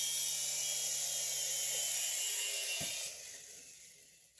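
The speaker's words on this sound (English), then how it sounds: "the flight review of the Altitude 2-channel helicopter by Propel" A Propel Altitude 2-channel RC toy helicopter flies close by indoors, giving a steady high buzzing rotor whine. Its motor winds down sharply near the end as it comes in to land on a ping pong table.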